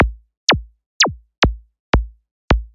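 Synthesized 909-style kick drum with a big pitch bend, six separate hits roughly half a second apart, each a sharp downward-sweeping thump that decays quickly into silence, clean and alone.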